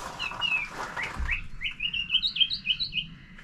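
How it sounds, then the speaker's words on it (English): A bird chirps outdoors in a string of quick, bright tweets that grow into a rapid, rhythmic run of whistled notes, clear and fairly close over faint background hiss, with no talk. "The bird's got a lot to say"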